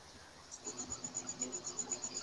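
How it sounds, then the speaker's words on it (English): Crickets in a quiet aquarium fish room, a faint, steady, rhythmic high chirping in rapid regular pulses, alone and close by. "Oh, he has crickets."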